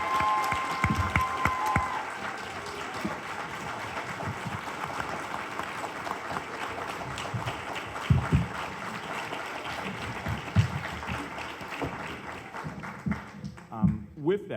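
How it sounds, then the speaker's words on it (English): Audience at a Sacramento NAACP mayoral town hall applauding the candidates, a sustained wash of clapping across the room with some voices mixed in, tapering near the end. "Would you all please give a round of applause for all of the candidates?"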